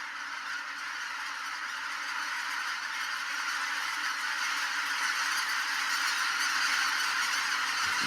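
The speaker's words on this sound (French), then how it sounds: "Ça fait s'envoler toutes les oies." A large flock of geese honks in a dense, continuous clamor as they take flight, frightened by two hunting eagles in the Korean DMZ, loud and unbroken throughout with no speech.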